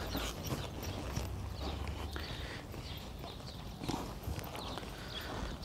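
A horse walks with steady, close hoofbeats in an irregular clip-clop under a constant outdoor hiss, with no talk.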